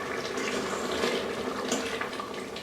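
Water being poured and added in a kitchen while cooking creamy salsa chicken in an Instant Pot, a steady close splashing wash with no talk.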